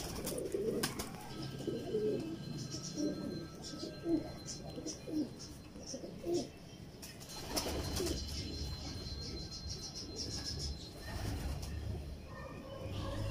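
Pigeons coo repeatedly in low, throaty bursts close by, mixed with occasional wing flutters and chirps, while someone talks over them throughout.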